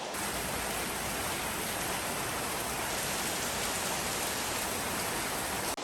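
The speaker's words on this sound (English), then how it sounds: "It's raining like crazy." Heavy rain pours down in Bali, a dense, steady hiss of falling water that stays loud and constant throughout, with no other sounds over it.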